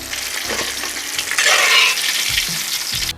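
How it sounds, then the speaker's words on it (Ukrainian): Carp sizzles and crackles in hot oil, a steady loud frying hiss that swells briefly midway, with faint clinks of a utensil. "Таким чином обсмажуємо решту риби."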